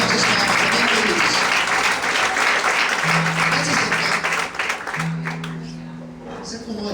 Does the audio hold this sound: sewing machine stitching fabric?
no